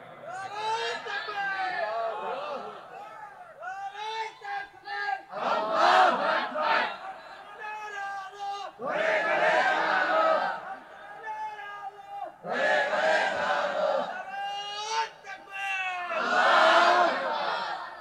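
Crowd at a religious gathering shouting slogans in loud, repeated collective bursts, with a single voice leading between the chants.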